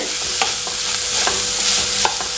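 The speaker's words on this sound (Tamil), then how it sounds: "இப்போ இதை உள்ள சேர்த்துக்கலாம். நல்லா கலந்து கொடுத்துக்கலாங்க." Steady sizzling of coriander leaves frying in a pan for chicken curry, with a few sharp scraping stirs of a utensil at irregular intervals.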